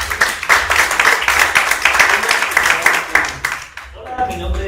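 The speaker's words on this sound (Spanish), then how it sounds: "un aplauso para..." Audience applause for a departing speaker at a lecture event, a dense steady patter of many hands clapping that fades out near the end as a new voice begins speaking.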